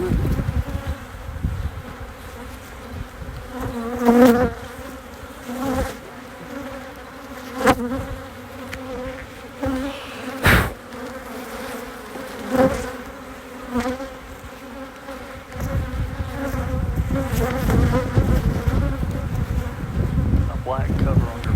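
Honeybees buzz steadily around an open beehive during a 4-H beekeeping session, a dense close hum with swelling and fading passes as individual bees fly near, with no talking.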